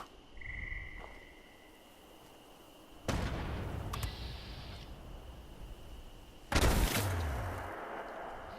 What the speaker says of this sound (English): Get plasma grenade out.